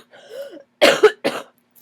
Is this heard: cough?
yes